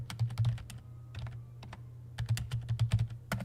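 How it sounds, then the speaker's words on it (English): Keys clatter on a computer keyboard in quick irregular bursts with short pauses between, close and fairly quiet, while a faint low hum sits underneath. "So if we type in exterior"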